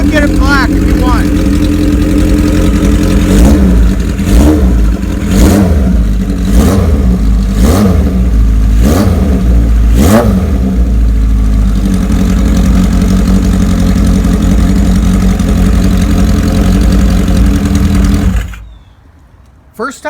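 A 1974 Kawasaki Z1 900 motorcycle engine runs loud and close, rising in a series of sharp revs over a steady idle before cutting off abruptly near the end.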